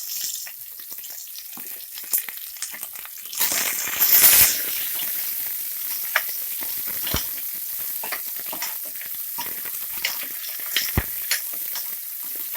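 Onion, curry leaves and green chilies frying in a pan with garlic for heerekayi sambar, a steady close sizzle with crackling pops, swelling loudly for a moment as the ingredients go in, then settling into an even hiss.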